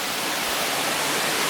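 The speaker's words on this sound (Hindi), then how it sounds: "और वाटरफॉल का आवाज़ तो सुनाई दे रहा है" Limdarha waterfall near Keshkal pours in a steady, even rush of falling water, a brief unbroken hiss heard close and alone.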